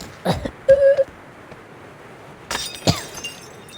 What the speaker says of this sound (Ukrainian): Ти чо всю посуду розбив?